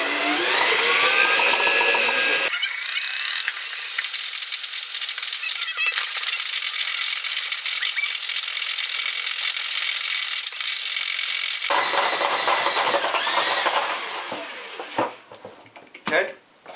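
A small-scale hand-cranked grain thresher spins steadily, giving a continuous loud mechanical whir and rattle that starts slow, runs on, then winds down near the end.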